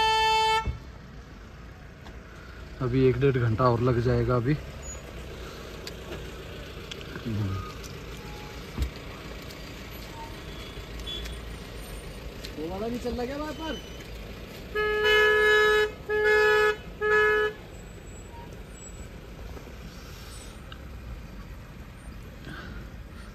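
Car and truck horns honk in a traffic jam on a snowy mountain road near Manali, with an early long blast, a later burst, and then several short repeated toots, while someone talks over the steady traffic noise.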